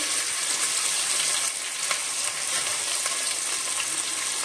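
Two chopped tomatoes sizzle in a cup of hot oil with ginger-garlic paste for an onion-tomato gravy, a steady crackling fry with soft stirring scrapes, fairly close and alone without talk.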